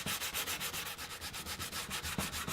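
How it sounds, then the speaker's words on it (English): Quick hand sanding on a Ford Bronco body panel, a fast run of rhythmic scratchy rubbing strokes, about a dozen even back-and-forth passes, close and clear with no talking. "then just going to do a real quick sand"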